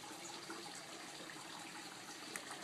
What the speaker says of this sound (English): See how some of the water goes down? How it's dripping out here?